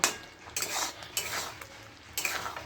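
Hog plum pickle being stirred in a pot, a spoon scraping and clanking against the metal in about four distinct strokes, close and fairly loud, with no voices.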